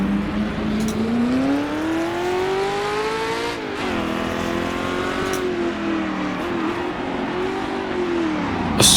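Several 1966 Porsche and Ferrari Dino sports-prototype race cars passing on the Targa Florio road course, loud continuous engine howl with rising and falling pitch as they go by, close and sustained throughout.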